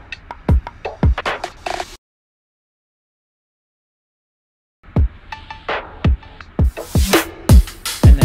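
Original, largely unprocessed drums from a remix with a punchy kick, sharp hits in a loose pattern, cutting out to a few seconds of total silence before returning with brighter cymbal-like wash.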